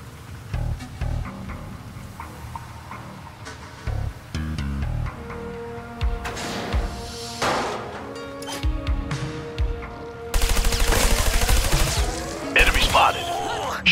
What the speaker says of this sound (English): Enemy spotted. Shoot him before he shoots you.